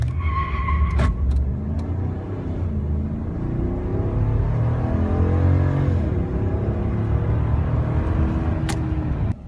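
A 2017 RAM 1500 Quad Cab SLT 4x2 pickup with 3.21 gears and no limited-slip differential accelerates hard, its engine roaring loud and steady while a single rear tire spins and loses traction at launch.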